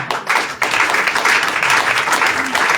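A church congregation at a Christmas service bursts into sustained applause, a dense, loud wash of clapping with voices mixed in.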